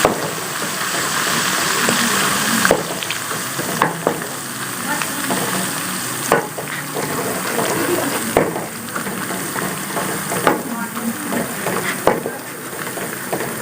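Ginger garlic paste sizzles and fries with browned onions and tomatoes in a karahi for Peshawari chicken charsi karahi, a loud steady hiss broken by repeated stirring scrapes and clanks, close and without talk.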